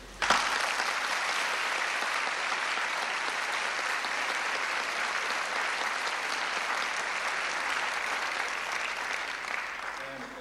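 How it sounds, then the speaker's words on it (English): An audience at a US naturalization ceremony held at a high school gives sustained, even applause for about ten seconds, a dense wash of many hands clapping that starts abruptly and fades slightly at the end. "I think we should all give a round of applause"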